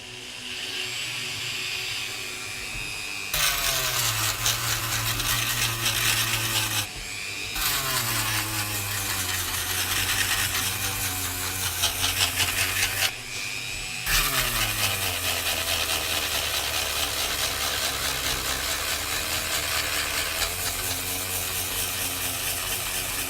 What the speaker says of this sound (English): Dremel noises incoming.